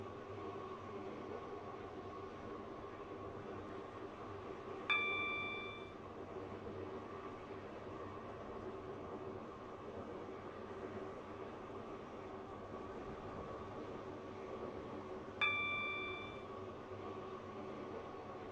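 A train runs in the Roblox-style railway game Stepford County Railway with a low, steady rumble throughout. Two short bright chime tones sound about ten seconds apart, and there is no talking.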